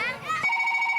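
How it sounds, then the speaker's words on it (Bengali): A telephone rings with a short electronic trill, then a steady tone, brief and close. A voice is briefly audible at the start. "মা ফোনটা ধরো। তোমার সামনে তো ঘন ঘন ফোন আসছে।"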